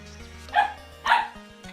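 A dog gives two short, sharp barks about half a second apart, fairly close and clear over a quiet background.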